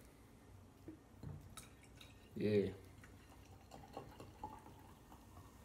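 Coca-Cola pours into a glass in a brief gurgling splash amid quiet room noise, with faint drips and small clicks around it and a short word spoken.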